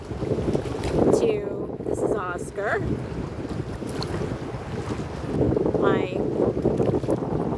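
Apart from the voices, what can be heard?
wind blowing on the bay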